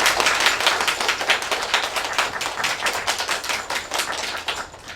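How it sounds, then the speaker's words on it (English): A crowd at a fundraiser claps steadily for several seconds, a dense, even patter of many hands with no voices above it. "please give a round of applause."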